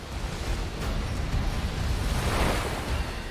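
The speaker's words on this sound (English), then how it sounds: "multiple waves batter the inside of the cavern" Water waves surge and batter the inside of a flooded cave, a loud, continuous roaring wash of turbulent noise swelling and ebbing with no voices.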